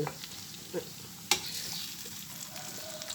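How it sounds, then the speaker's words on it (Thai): Thai pork sausage (moo yor) sizzles steadily while frying in a pan at close range, with a few sharp clicks and clatters from stirring over the continuous hiss. "ง่ายทอดหมูยอ ทอดเองก็ได้"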